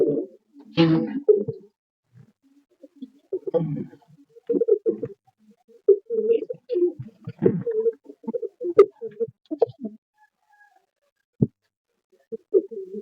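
Giribaz and Madras pigeons coo close by in repeated low, throaty phrases with short pauses between bursts, clear against an otherwise quiet background.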